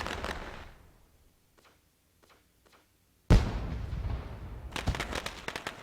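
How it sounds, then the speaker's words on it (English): Fireworks at a sprint car race track: a fading burst, a few faint distant pops, then a loud sudden boom followed by crackling bursts that build toward the end. "Of course, fireworks always a plus here tonight."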